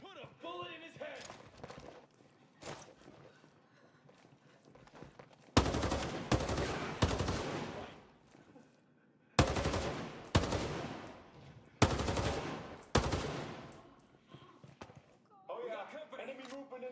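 Assault rifle fire in Ghost Recon Breakpoint: loud bursts of automatic shots in several clusters, separated by quieter stretches with faint background voices.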